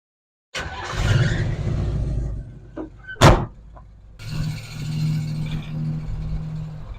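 A 1985 Oldsmobile idles and pulls away with a low engine rumble, broken by a door shutting with a sharp thud partway through, then the engine drones on steadily, close and moderately loud.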